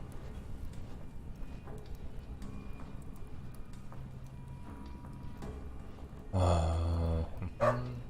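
Dogs fighting in the video game Underrail: scattered low growls and yaps build to a sudden loud burst of snarling barks near the end, followed by one more sharp bark.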